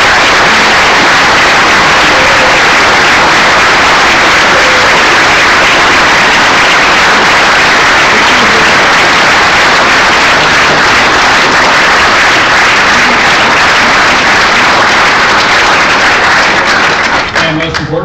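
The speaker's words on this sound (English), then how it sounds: "Please join me again in giving him a great round of applause." Loud, sustained applause from a lecture audience in a college court, a thick wash of clapping for about eighteen seconds, tapering slightly at the very end.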